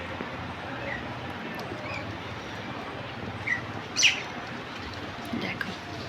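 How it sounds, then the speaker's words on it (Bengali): A flock of birds feeding outdoors, with scattered chirps and tweets rising over steady background noise, a few brighter calls standing out briefly, moderately near. "ওই যে পাখিগুলো দেখো দলে দলে আসছে"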